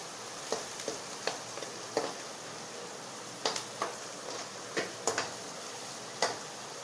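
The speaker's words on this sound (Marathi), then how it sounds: "थोडासा लालसर कलर होईपर्यंत असं परतून घ्यायचे" Uttapam topping is sautéed in a pan. A faint, quiet sizzle runs beneath a spatula scraping and ticking against the pan at irregular intervals, with no talking.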